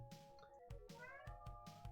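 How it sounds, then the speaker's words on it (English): A pet cat meows plainly in a few quick calls close to the microphone, against faint background sound and with no talking. "I think my cat wants fed."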